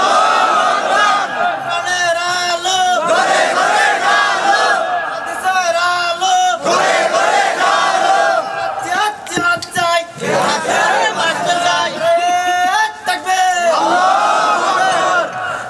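A large crowd at a Bangladeshi religious gathering chants the takbir, Allahu Akbar, in loud, repeated, roaring unison surges of massed voices that rise and fall over about fifteen seconds.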